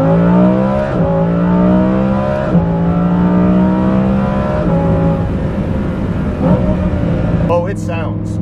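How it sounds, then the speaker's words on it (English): A Lamborghini Huracan Performante with an Inconel exhaust revs repeatedly, its loud droning engine note rising and dropping in several pulls, with a sharper crackle near the end; a voice talks over it. "videos do the exhaust sound of this Kline Innovation system no justice whatsoever"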